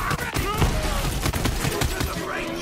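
Rapid, loud gunfire from Borderlands 3 on PS4 fires in dense, close bursts with a near-continuous stream of shots, while voices are heard faintly underneath.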